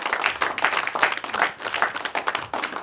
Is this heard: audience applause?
yes